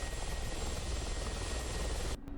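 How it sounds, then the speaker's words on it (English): A Mi-24P Hind helicopter in the DCS flight simulator gives off a loud, steady roar of rotor and turbine that holds constant, then cuts off abruptly near the end. "now we are back in a helicopter"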